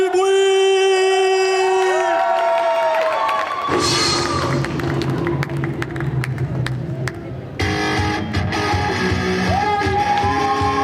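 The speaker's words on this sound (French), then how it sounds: "Messieurs, dames, veuillez applaudir la 3e membre de ce jury" A crowd at a cosplay contest during an otaku festival cheers, yells and claps loudly for the third jury member, the noisy roar surging over loud music with a bright tonal melody.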